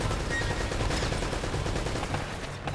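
Continuous, dense gunfire in Uncharted rattles without pause, rapid overlapping shots forming a loud, steady barrage throughout.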